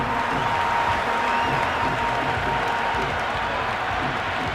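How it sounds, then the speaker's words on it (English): A stadium crowd cheers and applauds in Cricket 26 during an IPL match, a dense, continuous roar with a steady tone ringing faintly through it. "The crowd are really getting quite raucous."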